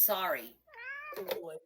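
A cat gives two drawn-out meows, the first rising and falling, the second steadier and tonal, close and clear, with a person speaking briefly right after.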